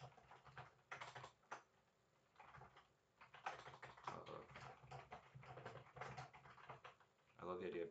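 Keyboard typing for an online comment, with soft, fairly quiet patter of keystrokes in uneven runs, under a talking voice.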